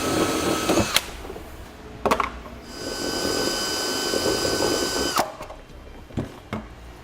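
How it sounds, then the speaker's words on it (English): Power drill with a cutting bit chewing through plastic trim on a 2017 Toyota Highlander, bursts of whining cutting between sharp clicks and knocks, moderately loud and close. "I'm just using a cutting bit. You can also use a cutting wheel. It's just plastic."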